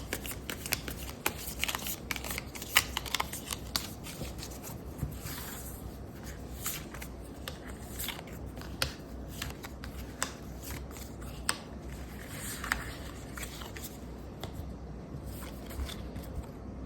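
Tarot cards are shuffled quietly and steadily, a soft, continuous riffling and scraping with frequent small clicks throughout, close and faint with no voice over it.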